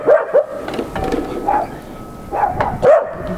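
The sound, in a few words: dogs barking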